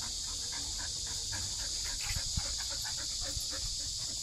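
A dog on an outing by a river in hot weather pants softly and gives faint, thin whimpers under a constant background hiss.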